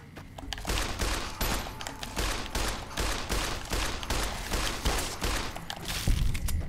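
Gunfire from Eddie shooting at a rad scorpion in Fallout: New Vegas, a steady run of rapid, loud shots with dense repeating cracks and thumps across the whole stretch, with no talk over it.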